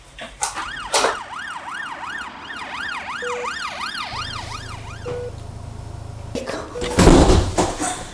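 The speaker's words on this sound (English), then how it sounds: "can I have an ambulance, please?" A wailing ambulance siren rises and falls in repeated cycles, fairly close, at a car breakers' yard, followed by a low engine rumble and a loud door slam near the end.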